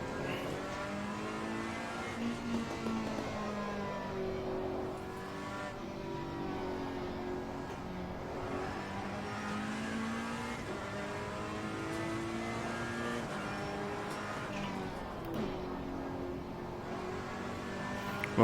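A race car engine in Assetto Corsa Competizione revs and whines through a downshift, with a steady droning tone that rises and falls in pitch and holds close and continuous.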